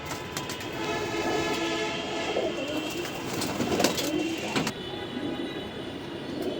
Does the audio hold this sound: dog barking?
no